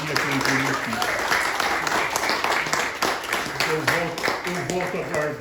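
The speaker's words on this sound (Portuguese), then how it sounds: "Gente, palmas para o Kiko também" Audience clapping in applause, steady and fairly loud, mixed with a voice talking and musical tones over it.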